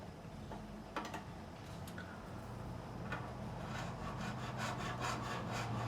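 A size 16 nut file rasps back and forth in the nut slots of a Telecaster guitar, a close, steady series of short scraping strokes that speed up toward the end over a low background hum.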